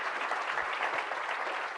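Conference audience at a climate summit applauding three panelists, a short, fairly faint but steady patter of many hands clapping together.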